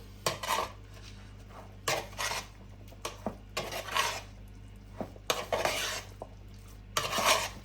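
Meat pie filling for an air fryer being mixed in a bowl with barbecue sauce, a spoon scraping and clinking against the sides in several loud bursts separated by short pauses, close by.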